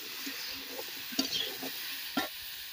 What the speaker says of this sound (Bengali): এখন ধুয়ে রাখা পটল আর আলুগুলো দিয়ে দেবো আর ভেজে নেবো ভালো করে।